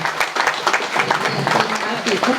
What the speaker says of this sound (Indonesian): Tepuk tangan kembali.